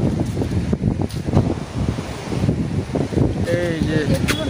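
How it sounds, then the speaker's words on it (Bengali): Sea waves breaking on the beach at Digha, a rolling surf roar with strong wind buffeting, steady and close, with some faint tonal sounds near the end. "সমুদ্রের আওয়াজ পাওয়া যাচ্ছে।"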